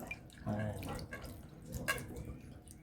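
Water is poured and splashed over freshly skimmed butter being washed for homemade desi ghee, with irregular drips and trickles under a nearby voice speaking.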